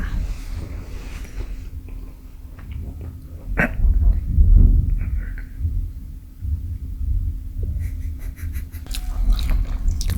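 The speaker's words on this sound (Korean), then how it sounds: "너무 쩝쩝거리면안돼요" Close, wet chewing and smacking of fried chicken and pizza, irregular mouth noises with a few sharp clicks, no talking.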